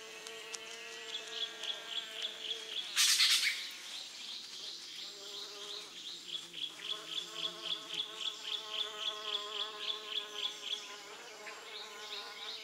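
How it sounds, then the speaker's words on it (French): Tiny Melipona stingless bee buzzing near the flowers of an African jungle tree, a steady, rapidly pulsing hum close by, with a sharp louder burst near the start before the drone settles back into its even rhythm. "Une abeille minuscule du nom de Mélipone est la plus à même de transporter le pollen vers l'arbre femelle."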